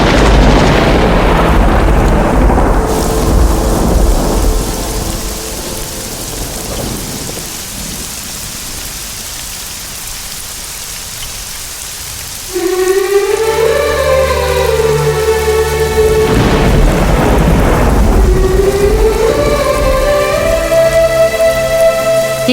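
Steady heavy rain pours throughout, joined by loud, rumbling thunder; about halfway through, a second rumble surges and rolls on to the end.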